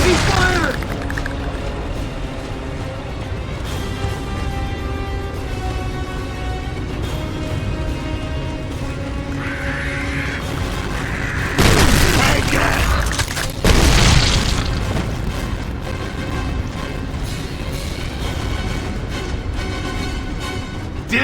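Gunfire and explosions from the video game Gears of War 2 rumble on in a dense, loud battle, with heavy booms swelling midway, under game voices calling out.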